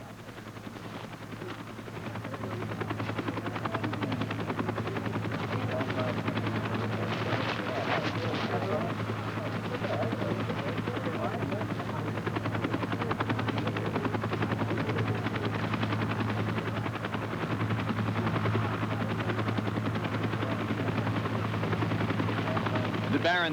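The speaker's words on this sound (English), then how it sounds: "this medevac helicopter is the key to survival for Steve Hinton" A medevac helicopter at the 1979 Reno Air Races scene of a crashed Baron racer gives a constant loud rotor and turbine roar, steady for over twenty seconds after a quieter opening.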